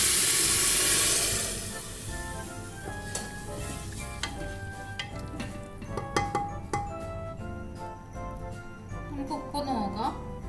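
Water is poured into a hot pan of soaked cracked wheat for Kerala-style upma. It starts with a loud rushing hiss that fades after about a second into softer sizzling, light clinks and stirring, with a voice speaking over it.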